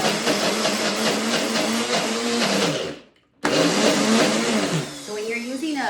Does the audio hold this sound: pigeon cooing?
no